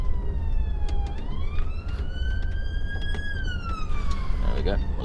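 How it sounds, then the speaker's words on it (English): An ambulance siren wails past in a long rising and falling tone, loud and close over steady car road noise, with someone speaking briefly. "Oh, ambulance."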